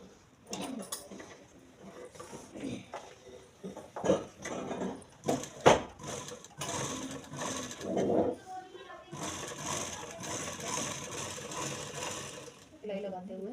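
A sewing machine stitches a black palazzo in a boutique with short, uneven runs and clicks under a woman's instructions, then a steadier, louder whirring run near the end.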